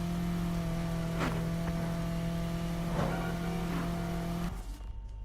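A six-gear car in the racing game Need for Speed Heat holds full speed at about 130, with a loud, steady engine drone and road roar throughout that drops away abruptly near the end.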